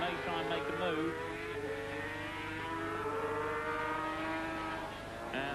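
500cc Grand Prix motorcycles accelerate on the Assen circuit at the 1984 Dutch TT, a steady high-pitched engine howl with rising harmonic whine sustained throughout, heard under a commentator's talk.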